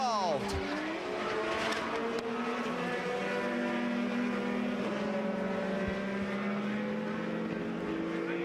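IndyCar race cars screaming past at high speed on an oval during a crash into the wall, with engine whine sweeping downward and then holding steady, brief impact noises, and a commentator talking throughout.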